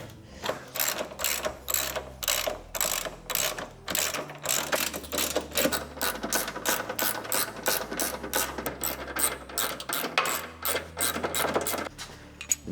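A ratchet clicks in quick, steady bursts while small bolts come off during the teardown of a V8-swapped Ford Focus engine, with short pauses between runs of close, sharp clicking.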